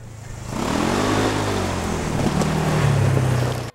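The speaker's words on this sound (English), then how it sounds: "Powering the RZR is pretty much the same motor as the bigger 900, just a smaller 570cc version." A Polaris RZR 570cc side-by-side churns along a rough trail, its engine building into a close, steady droning roar that shifts pitch as it runs.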